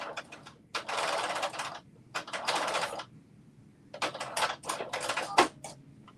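A sewing machine stitches a fabric piece in several short runs with pauses between them, running loud and close with a rapid mechanical chatter.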